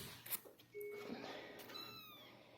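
A kitten gives faint, thin meows amid quiet indoor background noise, with a short higher cry near the end.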